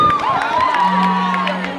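A loud crowd at a school slam poetry competition cheers, whoops and claps for a poet called to the stage, with children's shouts and sustained vocal tones riding over steady applause.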